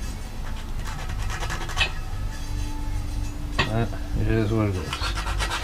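Hand sanding with sandpaper on a workpiece, a steady rasping scratch running throughout with a brief louder stroke partway, while someone talks briefly over it.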